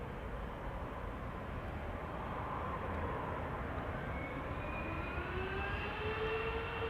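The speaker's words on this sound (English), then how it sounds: "This is KLM flight 757 to Panama City, a 777-300 YAR." Far-off roar of a KLM Boeing 777-300 departing Amsterdam Schiphol for Panama City, a fairly quiet, even rumble with a thin rising engine whine emerging toward the end, no one speaking.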